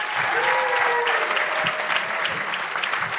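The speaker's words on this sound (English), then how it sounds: "Knew that was going to get a round of applause." An audience at a speaking event breaks into sustained applause, a dense, steady wash of many hands clapping close by for the whole stretch, with no clear talk over it.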